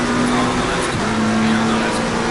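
A McLaren 720S GT3 race car engine in the racing simulator Assetto Corsa on the Nürburgring, a loud steady high-revving drone with a brief shift in pitch, continuous and close.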